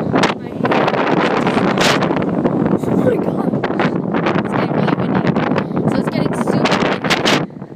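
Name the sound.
strong storm wind blowing into microphone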